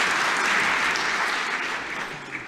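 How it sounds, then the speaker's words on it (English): An audience at a graduation ceremony applauds, a dense, steady wash of clapping from a large crowd in a hall that fades slightly toward the end. "Give this man a thunderous round of applause."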